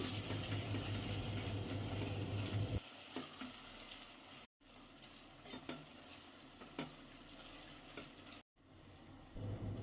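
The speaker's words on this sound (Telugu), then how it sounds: "ఈ అల్లం వెల్లుల్లి పేస్ట్ కూడా కొంచెం పచ్చివాసన పోయేంత వరకు వేయించుకోవాలి" Ginger garlic paste frying in a pan with oil, a steady sizzle interrupted by a scraping spoon's clicks and stirring, with two brief dropouts of silence.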